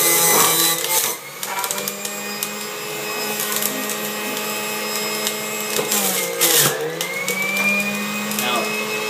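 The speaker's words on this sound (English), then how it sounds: "So I'm gonna juice right now." An electric juicer running continuously while vegetables are fed through it, giving a loud, steady motorized whine with grinding and shifting tones, dipping briefly as produce is pushed in.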